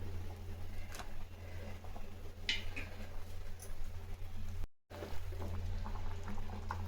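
A pot of vegetables for Tirunelveli sambar bubbles on the stove, a faint, steady, soft boiling patter over a low hum, with no talk.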